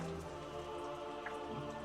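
Steady rain falls on a November day, a continuous close hiss of drops on surfaces with no voices.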